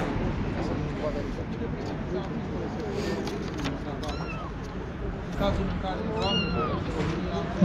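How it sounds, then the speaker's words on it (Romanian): A cat meows several times amid a crowd at a street protest outside the Russian embassy, its short calls rising over steady chatter and background murmur of many people talking. "Nu numai căței, dar și cu pisica a venit lumea."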